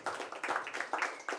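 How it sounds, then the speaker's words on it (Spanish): Applause for a guest double bassist at an intimate live venue, a small audience clapping in uneven bursts, fairly quiet and a little distant, with no voices over it. "Un aplauso, por favor, para él."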